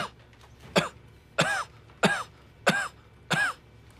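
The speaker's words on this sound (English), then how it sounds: "he just coughed not in Morse code" Five sharp, loud coughs from one man in an office, spaced roughly evenly with brief pauses between, close and clear against a quiet background.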